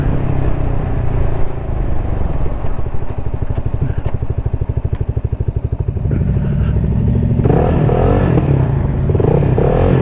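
A CFMOTO 300SS motorcycle idles with a rhythmic thumping putter, then the engine rises sharply into a loud revving roar as it pulls away, close to the bike with no talking.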